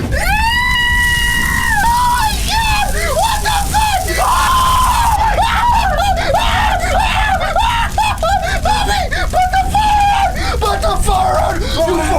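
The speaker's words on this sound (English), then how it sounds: "Jeff let out a terrible screech as he caught on fire" A man named Jeff, set on fire after being doused in alcohol and bleach, lets out a terrible screech: loud, drawn-out screaming and yelling with wavering pitch, close and continuous for several seconds, with other voices crying out around it.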